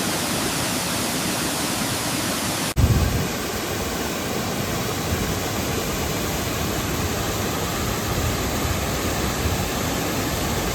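Tilari waterfall, a forested cascade on the Maharashtra–Goa border, roars as a steady, dense rush of falling water that fills the whole clip close up, with a brief bump after an edit and no talking.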